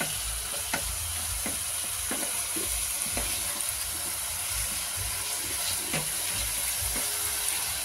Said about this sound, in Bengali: এবার এটা মশলাটা খুব ভালো করে কষতে হবে।